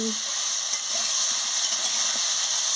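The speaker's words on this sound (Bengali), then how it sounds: "কাঁচা তেঁতুলটা দিয়ে দিচ্ছি" Raw tamarind cooks in a hot pan, producing a continuous, fairly loud sizzling hiss that stays even throughout.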